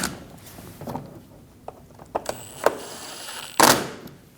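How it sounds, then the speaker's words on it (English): Screws being driven up through the bumper of a 2012-2022 Volkswagen Passat during an AC condenser replacement: a scattering of light mechanical clicks and a few sharper ticks, ending in a louder, brief rattling burst. "Install the screws up through the bumper."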